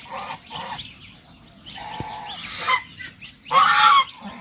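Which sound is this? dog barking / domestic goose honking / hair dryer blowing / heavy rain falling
domestic goose honking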